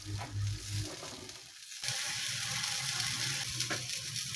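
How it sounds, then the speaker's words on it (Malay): Blended chili paste frying in hot oil for sambal, a steady close sizzle and crackle that runs the whole time with a brief dip near the middle, with no talk. "Panaskan minyak tu, tumis bahan kisar tu."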